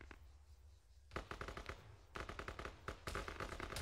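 Automatic machine gun fire in the military shooter ArmA 3, with a quiet lull before loud, rapid bursts of shots that come close and heavy, separated by brief pauses.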